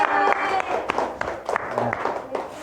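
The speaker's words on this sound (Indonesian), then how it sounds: "Tepuk tangan kelompok 1" A small classroom group claps for a presenting team during a microteaching session, brief uneven clapping with scattered voices talking underneath.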